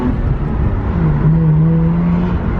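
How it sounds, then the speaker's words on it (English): Mazda RX8 rotary engine with a cheap new aftermarket eBay exhaust and high-flow catalytic converter, a loud close steady drone whose pitch rises and holds during a rev, without talk. "to go with our new exhaust, we have a new high flow catalytic converter, so we get more power, more sound"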